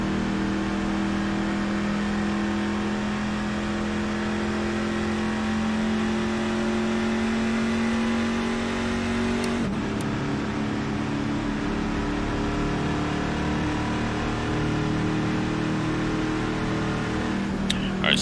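NASCAR trucks race at Kansas in iRacing, a steady loud engine drone holding a sustained pitch, then shifting abruptly near the middle as the engine note changes and continues under the pack.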